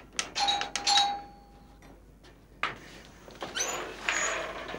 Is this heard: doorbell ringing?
yes